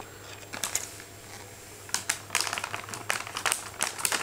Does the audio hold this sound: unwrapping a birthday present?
yes